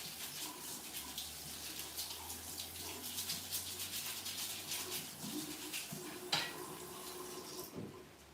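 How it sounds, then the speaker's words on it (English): Beetroot is washed under a running kitchen tap, a steady close rush of water with splashing and handling noises, ending with a brief clunk as the flow cuts off. "I'm just going to go and just cut away that dirt and just give it a quick little wash."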